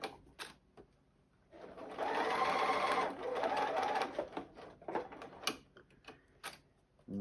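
A sewing machine stitches curved quilt pieces cut from templates, running in a steady close whirring burst for a couple of seconds, then stopping and starting in shorter mechanical runs.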